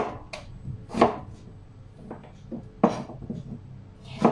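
A knife chops vegetables into small pieces for a salad, giving a few distinct, irregularly spaced thuds on a cutting board, close and fairly crisp, with quiet gaps between strokes.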